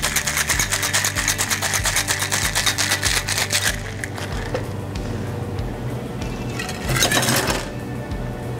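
A cocktail shaker full of ice is shaken hard for an Old Cuban with mint leaves and bitters, giving a loud, fast, even rattle for about four seconds, then a quieter settling clatter and a final short burst.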